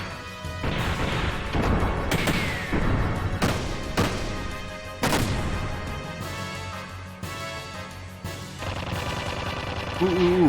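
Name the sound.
flashbang explosion in the video game Xenogears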